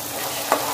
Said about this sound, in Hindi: दो मिनट तेज आंच में अदरक लहसुन का पेस्ट को भूनने के बाद